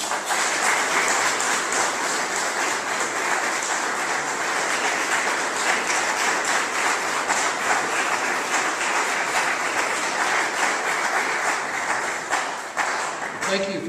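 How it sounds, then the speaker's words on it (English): Sustained audience applause fills a room at a political gathering in Greensburg, Kansas, steady dense clapping held for about thirteen seconds before tapering off at the end. "If you would, give him a round of applause."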